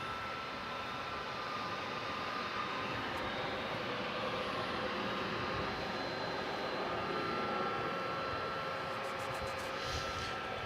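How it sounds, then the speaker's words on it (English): A UPS cargo plane flies near DFW Airport at night, a steady, moderately distant engine drone that holds evenly throughout with no talking. "You probably hear a plane back there,"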